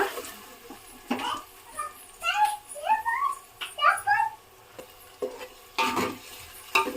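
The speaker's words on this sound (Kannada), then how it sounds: "ಏನೇನು ರುಬ್ಕೊಂಡಿದ್ದೀನಿ ಅದೆಲ್ಲ ಹಸಿ ವಾಸನೆ ಹೋಗೋವರೆಗೂ ಎಣ್ಣೆ ಮೇಲೆವರೆಗೂ ಚೆನ್ನಾಗಿ ಬಾಡಿಸ್ಕೊತೀನಿ" Ground masala paste for a fish curry is stirred and fried in oil in a pan. Intermittent scraping stirs and soft sizzling come in bursts, with some faint voice-like sounds between them.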